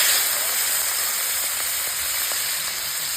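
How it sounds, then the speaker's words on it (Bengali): Prawns fry in hot oil with a steady, close sizzle and faint crackling pops, staying even in loudness throughout. "ওই তেলেই দিয়ে দেবো চিংড়ি মাছগুলো।"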